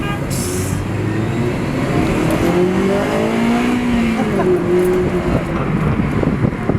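A Honda car engine revs up into VTEC range, rising and falling pitch as the engine climbs, loud and close with some wind noise around it.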